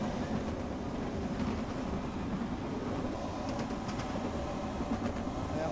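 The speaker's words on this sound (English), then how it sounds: "Who'd thought I'd be playing a bus simulator driving a tram over the bridge?" Steady rumble of a tram rolling over a bridge in the OMSI 2 simulator game, with continuous low wheel and track noise and faint metallic clicks, no voices.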